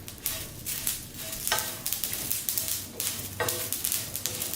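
Cluster beans with sesame seeds dry roasting in a pan, a steady dry rustling sizzle broken by several sharper scraping stirs, close and fairly quiet, with no talking.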